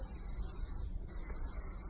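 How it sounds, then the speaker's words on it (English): Hairspray misting steadily over a high bun, a continuous close hiss running throughout with a brief dip near the middle. "And then I usually do one more spray"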